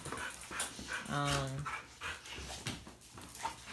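Three Dogo Argentino dogs play together, panting hard with scuffling noises and a short whine or yip in the middle, close and fairly loud.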